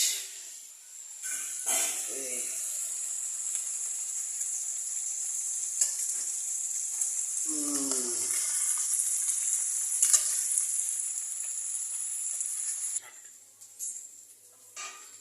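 Amudi fish frying in hot oil in a home kitchen, a steady bright sizzle that holds for most of the stretch, with a brief voice-like sound in the middle, before the frying quiets near the end.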